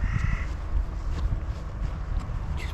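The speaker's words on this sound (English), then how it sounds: "just picking up the nice morning sounds of the birds" Crows caw repeatedly across open morning grassland in the countryside near Rothbury, harsh calls spaced out over a steady outdoor rumble of wind and footsteps.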